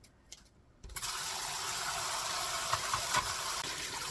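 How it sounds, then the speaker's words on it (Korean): Boiled seaweed stems rinsed in cold water at a kitchen sink, a steady broadband rush of running water starting after about a second and continuing throughout, close and fairly loud, with small splashes near the end. "깨끗이 삶은 거를 시원한 물에 헹궈줍니다"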